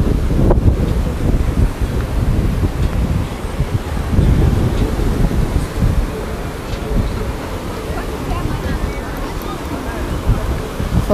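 Heavy wind buffets the microphone on Cabeçudas beach in Itajaí, Brazil, in a constant low, rumbling roar that never lets up, with faint surf-like wash beneath it.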